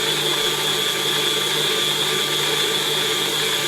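A stand mixer kneads brioche dough flavoured with orange blossom water, its motor giving a steady, loud, even whir that holds unbroken for the whole stretch before cutting off at the very end.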